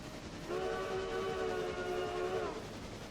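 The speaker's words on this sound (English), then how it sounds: "I could really mess with the whistles all day if I wanted to." A steam locomotive whistle in a train video game: one clear, sustained multi-tone blast lasting about two seconds, sounding alone over a low background rumble.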